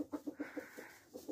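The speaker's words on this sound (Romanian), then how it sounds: "Ia uitați găinile cum stau aici, aceste găini, acest cocoș a devenit agresiv." Hens and an aggressive rooster in a farmyard, giving a run of short, rhythmic clucks close by, several quick pulses, a brief pause, then more clucking at a moderate level with no talk.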